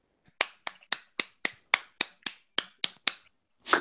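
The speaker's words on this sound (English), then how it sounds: "Give him a golf clap" About a dozen sharp, light claps in a slow, evenly spaced rhythm, crisp and close, followed by a brief louder rustle at the end.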